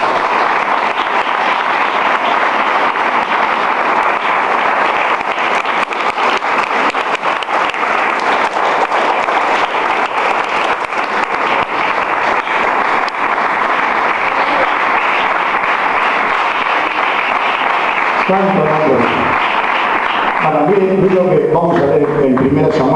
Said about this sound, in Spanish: De un fuerte aplauso a eso.